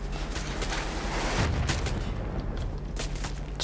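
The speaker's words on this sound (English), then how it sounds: "What are the explosions?" Gunfire and explosions in the shooter game Wolfenstein: The New Order make a dense, continuous barrage of rapid shots and deep booms, loud and close, with no voices over it.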